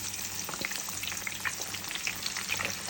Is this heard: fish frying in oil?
yes